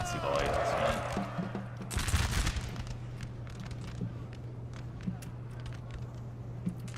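Musket line volley fire in Napoleon Total War, heard as distant crackling bursts of massed shots under a continuous battle-ambience hum, with a louder volley around two seconds in and scattered pops afterward.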